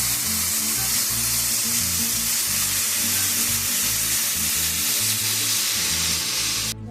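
Broth pours onto minced garlic sizzling in a pan for Spanish rice, producing a loud, constant hissing sizzle that continues unbroken at close range before stopping abruptly.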